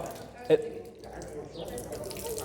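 Water running from a tap into a sink during a demonstration of ablution (wudu) at a mosque, a steady low splashing stream with a brief louder splash early on, under a voice speaking.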